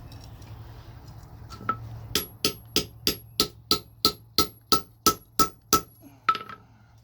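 Metal hammered on an anvil to punch a hole, probably for a lantern, plant or triangle hook: about a dozen evenly spaced, ringing hammer strikes, close and loud, after a quieter start with a low hum.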